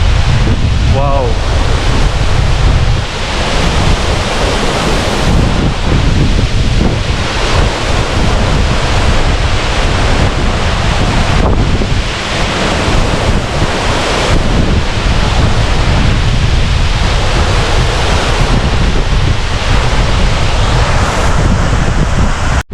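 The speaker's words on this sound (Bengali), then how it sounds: "অদ্ভুত সুন্দর, একেবারে মিস্টিরিয়াস ওয়াটারফল।" A mountain waterfall near a village in Zemithang roars loudly and steadily as a constant rushing wash of water, with heavy wind buffeting across the microphone.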